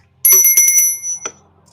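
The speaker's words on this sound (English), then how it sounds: "Let's just ring the bell." A bell rung at close range: a quick burst of bright, bicycle-bell-like dings, then one final ding that rings briefly and fades.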